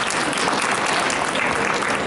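An audience at a hypnosis talk during a psychic expo bursts into a dense, steady round of applause, many hands clapping together at full volume throughout.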